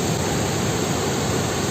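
Aaina Park waterfall swollen by monsoon rain, giving a loud, steady roar of rushing water that holds level throughout with no voices.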